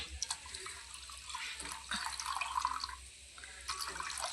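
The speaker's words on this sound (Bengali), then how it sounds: "তো আর একটু আমি জল দিয়ে দেবো, আর 1 বাটির মতো, অল্পই দেব।" Water poured from a bowl into rice for pulao, a soft trickling and splashing stream with brief pauses, close but quiet, over a low background hum.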